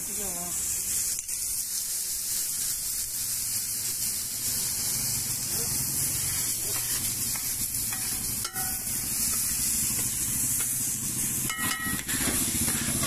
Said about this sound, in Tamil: ஆனியன் வந்து நல்லா வதங்கிட்டு இருக்கு